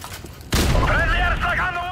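A burst of gunfire erupts midway through a Call of Duty Modern Warfare Remastered match, loud and close, with layered shots and ringing tones trailing off as game sounds continue.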